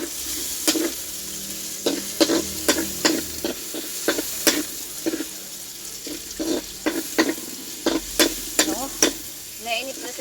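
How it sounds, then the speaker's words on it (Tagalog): Garlic fries in a hot pan while a utensil stirs it, steady sizzling under a run of sharp scraping clacks at irregular intervals, close and moderately loud, with no talking. "Lalagay na rin po yung bawang."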